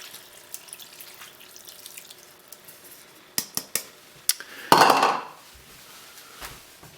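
Water pours into a pot for cretons in a home kitchen: a few light clicks and taps, then one short, loud gush of water that fades quickly.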